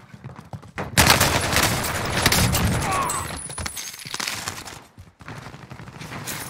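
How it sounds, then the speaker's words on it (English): A DMR 14 semi-automatic rifle in the Warzone video game is tap fired, producing a loud, dense run of shots that echo over one another for several seconds before trailing off into sparser, fainter reports. "I just tap fire it every single time."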